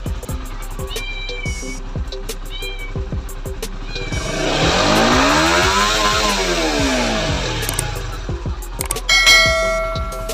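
Honda RS 150 motorcycle on a remapped stock ECU: close, loud engine sweeping up and back down in a single rev. Scattered clicks and meow-like cries sound before it, and brief taps follow.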